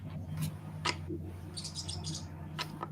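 A pet bird lets out repeated sharp chirps and squawks in short bursts over a steady indoor hum, fairly close and clear, with no talking.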